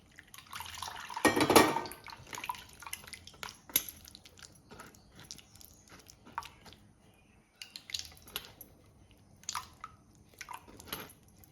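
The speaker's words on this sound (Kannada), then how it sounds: "ಸ್ವಲ್ಪ ನೀರು ಸೇರಿಸ್ಕೊಳ್ತಿದ್ದೇನೆ ಫ್ರೆಂಡ್ಸ್" Water is poured and stirred into tamarind for a sweet chutney, giving close, wet squishing and splashing. A loud burst of pouring comes early, followed by scattered drips and sloshes. No one speaks.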